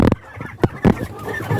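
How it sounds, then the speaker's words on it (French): Brahma chickens, the feather-footed breed, give a few short clucks and squawks close by on a small integrated farm, in quick uneven bursts. "vous voyez par exemple là ce sont les poulets pantalonnés qu'on appelle aussi les brahmas"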